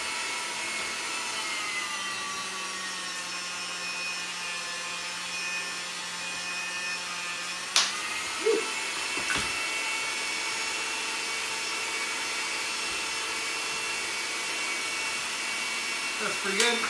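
Pasta dough being fed through a hand-cranked pasta machine, a quiet steady grinding rub with a faint mechanical hum, broken by a few soft clicks and knocks near the middle and end.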